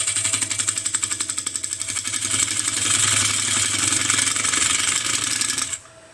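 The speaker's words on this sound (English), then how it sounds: "we're going to establish the edge with our parting tool, so how thick the wall's going to be" A parting tool cuts into a spinning wooden yarn bowl on a woodturning lathe, giving a loud, rapid rattling chatter over the motor hum that swells, holds steady, then stops abruptly near the end.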